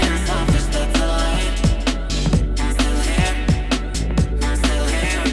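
Sung vocal harmony, a second voice pitched down three semitones with the Humanoid plugin, layered over the lead line within a full music mix with steady drum hits and bass.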